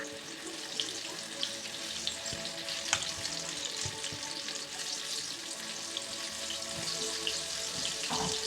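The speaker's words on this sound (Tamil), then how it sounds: "இப்போ வந்து எண்ணெய் நல்லா காஞ்சதுமே வந்து நம்ம பிசைஞ்சு வச்சுருக்க பக்கோடா மிக்ஸை வந்து இதில் போட்டு" Mushroom pakoda batter deep-fries in hot oil, a steady close sizzle and bubbling throughout with a few faint utensil clinks and no talking.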